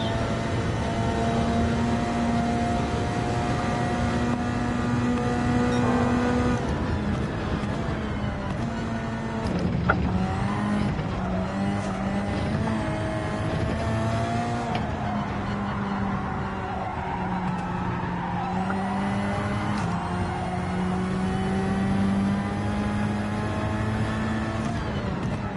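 A front-wheel-drive race car in Gran Turismo 7 drones on continuously, its engine note rising and falling through gear changes and corners, with tires squealing at times and the loud, close sound holding throughout.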